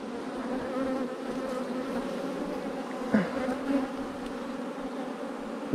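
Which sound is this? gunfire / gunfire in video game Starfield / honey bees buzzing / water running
honey bees buzzing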